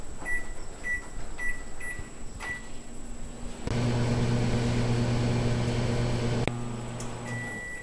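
Keypad beeps on a microwave oven, then a steady low hum as it heats chicken nuggets for a few seconds before stopping with a click and a final beep.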